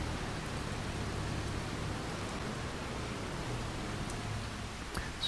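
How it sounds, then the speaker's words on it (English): Rain falling in the farming game Farming Simulator 25, a constant even hiss of rainfall with no voices, steady throughout with a slight thump near the end. "I don't think the rain is our friend here today."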